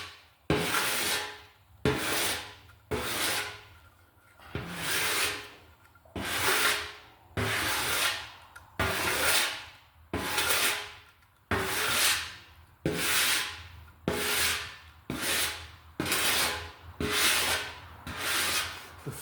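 Sanding board rubbed over filler on a Fiat 500 quarter panel in long rhythmic strokes, about fourteen close, raspy back-and-forth swipes with short pauses between them and no talking.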